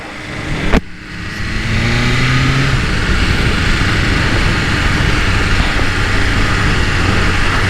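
A BMW S1000RR sport motorcycle ridden from South Beach toward downtown Miami, its engine droning steadily and loudly up close with heavy wind rush after a brief sharp knock, the tone shifting slightly as it accelerates.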